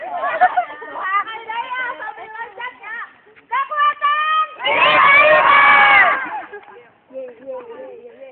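A group of children and adults shouts together as a stress-relief exercise on an outing to a waterfall in Cisarua. Excited voices and chatter build to a loud sustained collective yell, then drop back to talking.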